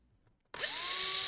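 A cordless power screwdriver starts up abruptly and whirs steadily at high speed while backing out a screw from a Lenovo Legion Y540 laptop's bottom, close and loud, with no talk.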